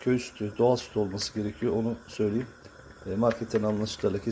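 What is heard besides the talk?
No everyday noise stands out behind the speech.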